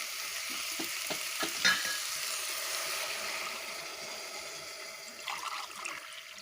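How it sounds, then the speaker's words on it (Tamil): Coconut milk poured and stirred into sautéed vegetables for veg pulao, a faint soft trickle and sizzle with light scraping stirs spread through the pan, a few louder clinks near the middle and end. "தேங்காய் பால் ஊற்றிக்கலாம்."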